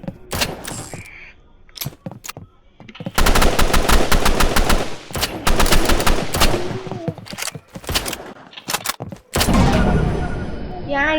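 Video game gunfire comes in rapid automatic bursts and scattered single shots, loud and sharp, separated by short quieter gaps, with players talking over parts of the action.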